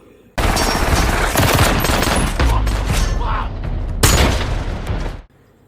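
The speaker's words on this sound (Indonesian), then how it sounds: "dia terus menembakkan pistolnya" Rapid, loud bursts of pistol gunfire from the film Wrath of Man ring out nearly continuously, crackling shots packed close together with a heavy boom beneath them.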